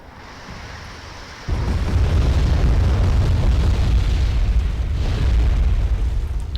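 Smerch rocket artillery barrage pounds the battlefield in Wargame: AirLand Battle, a sudden heavy rumble of explosions breaking in and rolling on loud and continuous.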